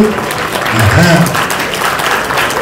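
Audience applause at a Yoruba gathering honouring Princess Omo Oba Yeye Moremi with the Ooni of Ife present, a steady wash of clapping that swells mid-clip, mixed with crowd noise and voices.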